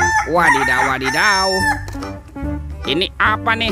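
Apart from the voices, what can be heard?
rooster crowing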